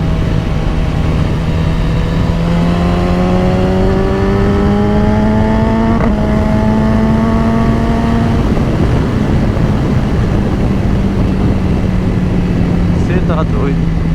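BMW S1000RR motorcycle engine pulling hard with a quickshifter, the revs climbing in smooth steps between brief gear-change cuts, loud and close, with a voice talking over it.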